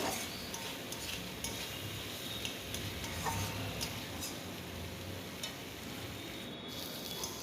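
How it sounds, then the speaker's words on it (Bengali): Potatoes coated with a ground cumin-and-chili spice paste sautéing in oil for a light rohu fish curry, giving a steady low sizzle with soft stirring scrapes throughout, moderately quiet and close, no talking. "আলুর সাথে মশলা ভালোভাবে এবার কষিয়ে নেব"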